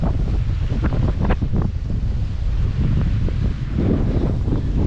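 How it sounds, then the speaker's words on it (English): Strong wind gusting off a lake at a Tasmanian campsite, roaring steadily across the microphone with a continuous low buffeting rumble and scattered gusty bursts, loud and close, with no talking. "it's still just a bit too windy"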